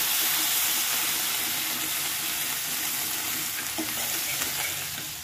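Ginger and green chillies with asafoetida and turmeric fry loudly in a pan, a dense continuous sizzle and crackle throughout with faint stirring scrapes.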